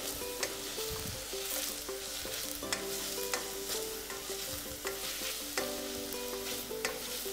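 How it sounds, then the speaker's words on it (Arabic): Onions fry in a pan and get stirred, with a constant close sizzle. Periodic scraping and tapping of the utensil against the pan come through underneath, and no one speaks. "نتابع تحريك البصل."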